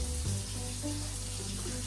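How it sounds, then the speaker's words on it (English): Warm water runs from a kitchen tap in a steady, close, continuous stream for the whole short stretch, with no voices over it. "should have my warm water already running."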